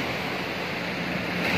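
Ocean surf rolling onto the shore at Pangandaran beach on Java's south coast, a steady broadband wash of breaking waves with some wind noise, continuous and fairly close, no voices.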